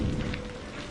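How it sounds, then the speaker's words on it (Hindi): Steady rain falls on a stormy night, a dense, continuous hiss and patter with a low rumbling undertone, loud and unbroken through the brief moment, with no voices. "न कोई इंसान, न कोई आवाज, बस बारिश की लगातार ध्वनि"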